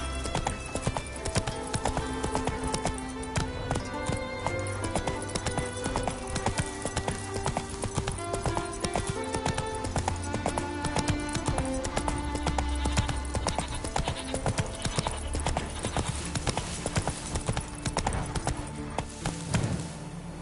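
Roach, the horse from The Witcher 3, gallops in steady rapid hoofbeats close up, running continuously over a dense bed of game music with an occasional whinny.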